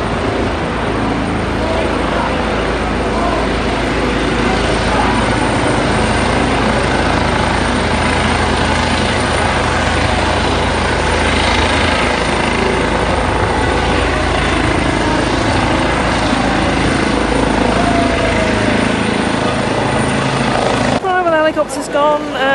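A helicopter flies over a football stadium before a Wycombe versus Blackpool match, making a loud, steady, close rotor drone that lasts throughout. Near the end a brief sharper sound cuts through.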